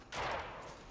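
Distant gunfire from fighting in a video game, a brief rattling burst that swells quickly and lingers as a hazy, far-off crackle.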